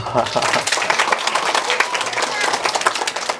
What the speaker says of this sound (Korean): 정확합니다. 박수.